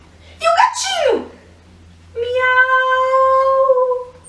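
A person's voice imitates a cat, giving a drawn-out, sneeze-like cry and then a long, steady, high meow, both loud and close in an otherwise quiet setting.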